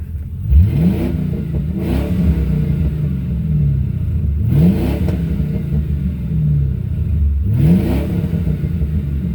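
A deep, rumbling Lincoln Town Car with a modified exhaust, in neutral, revs up sharply three times, each roar rising then dropping back to a throaty idle, close and loud.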